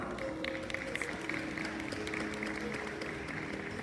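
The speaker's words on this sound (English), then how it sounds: "another round of applause." A crowd at a panel discussion claps steadily in a continuous patter, moderately distant, with some murmur underneath.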